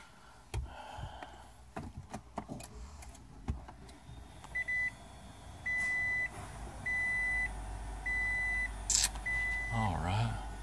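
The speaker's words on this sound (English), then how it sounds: "Let's start the car up." A Toyota Prius hybrid powering on: a series of short, evenly spaced electronic beeps under a low hum, with some handling clicks and a person talking nearby.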